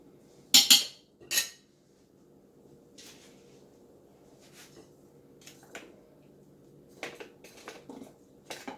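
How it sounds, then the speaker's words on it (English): Vegetables are dumped into the bottom of a stew pot: two sharp clattering thuds of pieces hitting metal up front, then quieter scattered knocks and scrapes of pot and utensil, no talk. "the first thing we're going to do is dump the veggies at the bottom"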